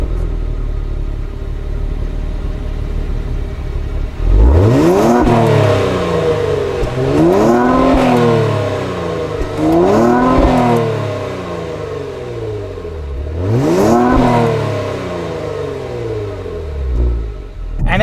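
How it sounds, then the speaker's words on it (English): A 2021 Kia Stinger V6 with a bimodal exhaust revs loudly three or four times, each blip a sharp rising roar that falls away, with deep rumbling idle in between. "You now have a bimodal exhaust with the Kia Stinger, as you can hear right now."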